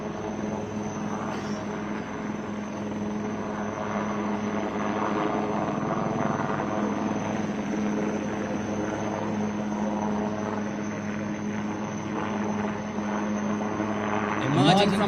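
Navy helicopter hovering during a Marine commando rope slithering display at a naval Beating Retreat event, a steady loud rotor drone throughout, blended with crowd and outdoor noise and a brief rustle near the end.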